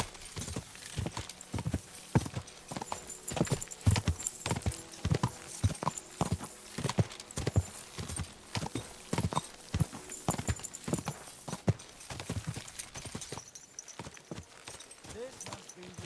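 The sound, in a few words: horse hooves clip-clop in video game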